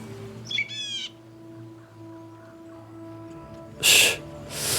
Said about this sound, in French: Un petit oiseau.